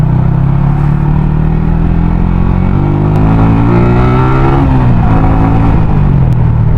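A Yamaha Sniper 150 motorcycle with a modified throttle body accelerating on a road ride, its engine note climbing in pitch through the revs, dipping at a shift and rising again, loud and close with no talking.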